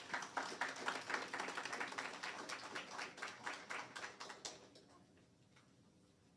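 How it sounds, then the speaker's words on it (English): Audience applause at a Steam Lab launch event at Garmex Academy, a dense patter of many hands clapping steadily for about four and a half seconds before fading out into quiet room tone. "Another round of applause for Mrs. Marcine Taylor-Brown"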